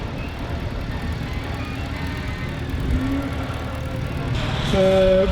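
A restored 1965 vintage engine runs at a steam and country show, a steady low rumble with faint mechanical tones throughout and a brief brighter burst near the end.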